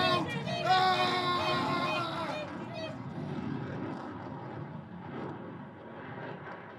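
Radio-drama effect of an airplane diving with its engines failing, a loud droning and whining roar that sweeps down in pitch and fades into a rumble across the clip.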